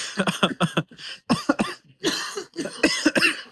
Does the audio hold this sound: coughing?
yes